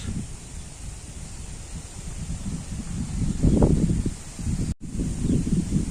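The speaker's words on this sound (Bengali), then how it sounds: "আপনারা হয়তো শব্দ শুনতে পাচ্ছেন বাতাসে," Strong cyclone wind sweeps through a green village, rustling leaves in a rough continuous roar with low gusty buffeting that swells in the middle, with a brief dropout near the end.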